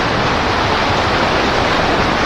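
Water rushes over the Fox River spillway in a loud, constant broadband roar, close and unbroken, with no voices.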